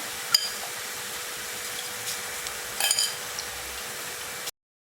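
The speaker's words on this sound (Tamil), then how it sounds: "இப்போ ஊற வச்சிருக்க பாஸ்மதி ரைஸை போட்டுக்கலாம்." Soaked basmati rice tips into a pan for mushroom pulao, a soft rustle and faint sizzle with a couple of light clinks of utensil on the pan, quiet and close before cutting off abruptly.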